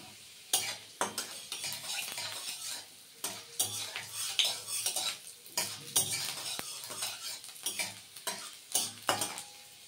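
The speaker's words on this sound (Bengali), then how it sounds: "তেল গরম হয়ে গেছে, তেল থেকে ধোয়া উঠছে। এখন আমি এর মধ্যে দিয়ে দেবো এই যে রসুন।" Chopped garlic fries in smoking-hot oil in a pan, a soft steady sizzle broken by a dozen or so sharp clinks and scrapes of a metal spoon stirring, close and fairly quiet, with no talking.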